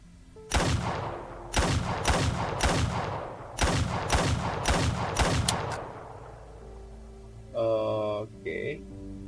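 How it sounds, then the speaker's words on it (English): Video game gunfire as a character raises her arm skyward and empties every bullet at once: about ten sharp, loud shots in two quick runs, each ringing out briefly before the next. They fade away, then a short tonal sound follows. "She raises her arm up high toward the sky and fires all her bullets in one go."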